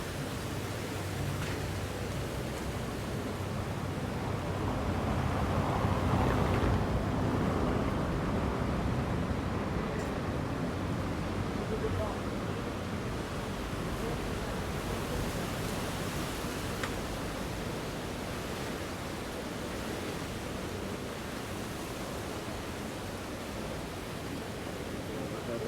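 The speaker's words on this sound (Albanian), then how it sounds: "shohim sot ditën që kemi një erë kaq të fortë" Strong winter wind roars across the beach at Durres, Albania, with sea waves breaking along the shore, a steady broadband rush throughout that swells briefly near the middle, with no talk heard.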